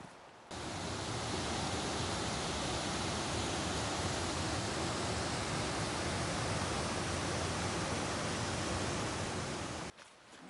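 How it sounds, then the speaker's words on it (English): Linville Falls in North Carolina pours in a continuous, dense roar of falling water, steady and fairly loud from start to finish with no voices, cutting in and out sharply at the edges. "this is Linville Falls"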